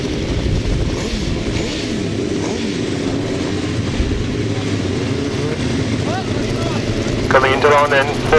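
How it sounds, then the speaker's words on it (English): 1000cc racing sidecars idle and rev as they line up at a grasstrack meeting, a steady outdoor engine drone with rising throttle blips near the end, under a loud public-address commentator. "Coming into line then for race 8, another heat of the 1000cc sidecars."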